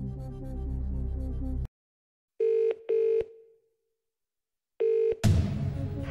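A phone-a-friend lifeline in a Millionaire quiz DVD game: a music bed cuts off, three clear dialing tones sound with short gaps between them, then a burst of music returns.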